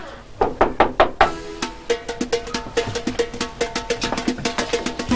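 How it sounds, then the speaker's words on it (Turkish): Someone knocks on a door during a Nevruz celebration scene, with a fast burst of raps followed by steadier repeated knocking, close and fairly loud. "Aha kapı çalındı bak."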